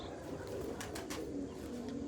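Pigeons coo in a low, steady murmur for about two seconds, soft and somewhat distant, in a loft where breeding pairs have just been set up.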